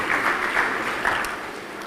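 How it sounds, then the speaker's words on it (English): Summit audience applause for a keynote speaker, a dense, steady wash of clapping from a large crowd throughout, without a break. "Big applause for our keynote speaker."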